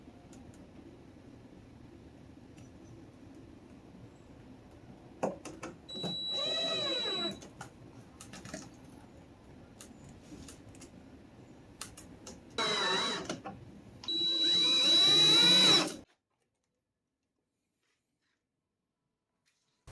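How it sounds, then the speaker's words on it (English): A cordless drill driving screws into rain-gutter side skirts on a car, with several separate whirring bursts of varying length, the last ones loudest and longest, over a low background hum. "I'm just kind of holding them up and seeing where they look good and just running some screws in"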